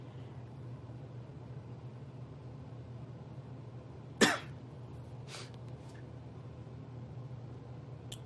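One sharp cough stands out over a steady low hum, followed by a fainter second cough a moment later, with no talking.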